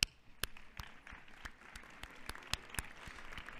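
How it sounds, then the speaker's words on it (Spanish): Sparse, separate claps ring out at a university psychology and education graduation ceremony as the audience applauds the parents and families, a few sharp hands at uneven intervals over a quiet room. "os levantaréis y le rindierais un aplauso a estos que os han apoyado"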